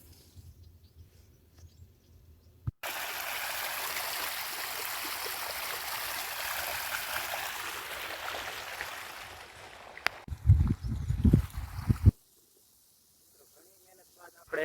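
Water gushing steadily through a repaired pipe, a loud continuous rush for several seconds after a sudden start, then cut off by louder handling noises before quiet.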